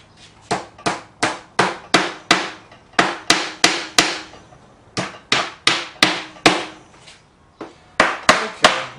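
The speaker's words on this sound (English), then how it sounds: "use a mallet to pound the dowels into place" A mallet pounds wooden dowels into holes in a bonsai display stand, with loud, close, sharp knocks in steady rhythmic runs of several blows, separated by short pauses.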